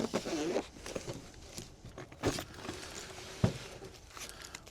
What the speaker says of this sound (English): Find the zipper.